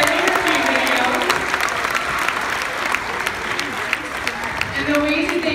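A room full of people clapping steadily for several seconds, dense and continuous, with some voices mixed into the applause.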